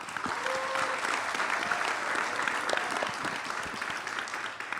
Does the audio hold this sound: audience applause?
yes